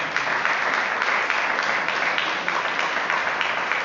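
A church congregation claps together in a steady, dense round of applause lasting several seconds, loud and close with no voices on top.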